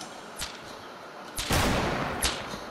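Gunfire in Fortnite cracks out in a few sharp shots, with a denser burst midway, over faint game background noise.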